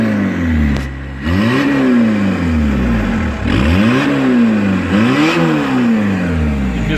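Volkswagen diesel engine fitted with a Giles injection pump, loud and close, revving up and down in several rising and falling sweeps over a steady idle, with a brief dip near the start.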